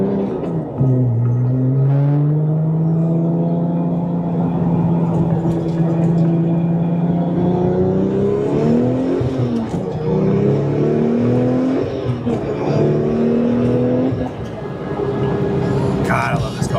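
A Porsche 997 Turbo engine warms up on a cold morning, rising and falling through loud revs close by, with a voice talking over it.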